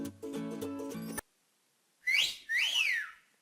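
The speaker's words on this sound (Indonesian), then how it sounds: "Ada juga bunyi lemah contohnya bersiul." A short musical phrase gives way to silence, then a person whistles softly in two gliding, rising-and-falling notes, close and clear with no talk.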